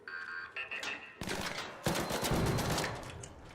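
An automated camera turret gun in the game ARC Raiders opens up with rapid bursts of gunfire, a dense rattling stream that grows louder and more sustained after a short stutter of shots, over faint game ambience.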